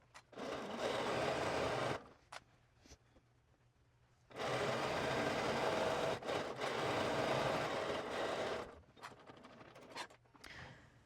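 A sewing machine stitches the side seam of a dress in two long, steady whirring runs separated by a quiet pause, followed by brief clicks and handling noises.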